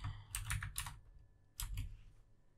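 Computer keyboard keys clatter in two quick bursts of typing, close and fairly quiet, with a short pause between them and no voices.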